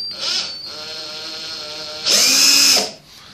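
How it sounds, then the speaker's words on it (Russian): A variable-speed power drill boring into wood for a box, close and loud: a steady high whine that spins down, then a harsher, louder burst of drilling that cuts off, with no one talking. "На второй или на первый лучше сверлить?"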